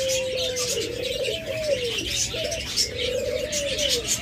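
Doves coo nearby in a repeated rolling pattern of soft, low calls, with faint bird chirps mixed in the background.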